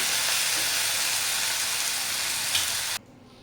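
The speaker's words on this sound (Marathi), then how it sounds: "कांदा आणि टमॅटो बघा खूप छान असं परतून झालेलं आहे" Onion and tomato saute in a pan over a stove for Hyderabadi paneer gravy, giving a steady, close sizzle and frying hiss that runs continuously for about three seconds before cutting off abruptly, with no talk.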